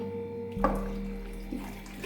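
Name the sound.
jug of water poured into goat trotter pot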